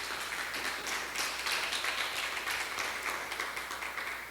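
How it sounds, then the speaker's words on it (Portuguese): A church congregation claps hard and steadily during a worship service, a broad, even wash of many hands that stays fairly constant and moderately distant, with no talking on top. "Vocês podem aplaudir o Senhor bem forte em nome de Jesus?"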